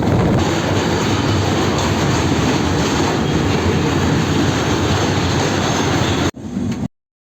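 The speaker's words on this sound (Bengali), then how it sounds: "ধান ক্ষেতের মাঝখান দিয়ে সবুজ ট্রেন চলে যাচ্ছে" A green train runs through paddy fields in Bangladesh on the Pabna to Dhaka route, a loud, steady close rumble with rail clatter that cuts off abruptly at the end.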